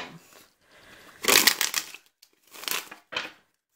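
Brisk papery riffling and soft slapping of cards in a few quick bursts separated by brief pauses, close and fairly loud.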